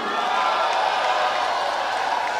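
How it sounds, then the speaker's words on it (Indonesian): A student audience in a hall applauds for Rocky Gerung, a continuous, dense wash of clapping and crowd noise that holds steady for the whole stretch. "Tepuk tangan dong buat Bung Rocky."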